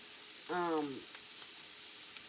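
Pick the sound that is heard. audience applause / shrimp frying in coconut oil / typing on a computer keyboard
shrimp frying in coconut oil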